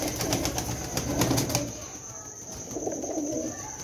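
Pigeons coo softly nearby while wings flap in a quick burst of fluttering, followed by a few more low coos.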